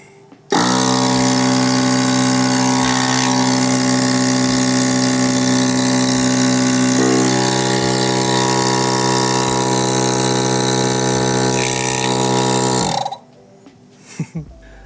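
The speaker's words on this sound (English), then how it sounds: "So we'll flip the disconnect switch and then try the compressor." A DIY on-board air compressor mounted on a dual battery tray runs loudly and steadily for about twelve seconds, a strong droning hum with a slight shift partway through, then cuts off abruptly into near silence.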